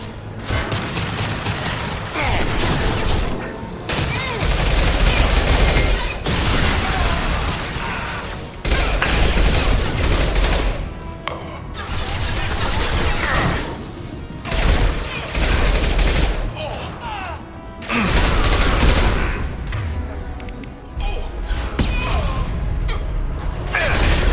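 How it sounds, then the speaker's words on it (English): Loud, sustained gunfire in the Mass Effect 2 video game, dense bursts of automatic fire and impacts filling the scene in long runs broken by short gaps, with game voices shouting over it. "Shoot it down!"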